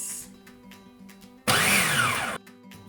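A kitchen blender whirs loudly for about a second, blitzing eggs and milk into a batter for low-carb lasagne, starting and stopping abruptly against a quiet room.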